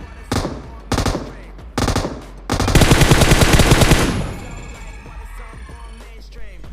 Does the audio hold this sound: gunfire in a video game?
yes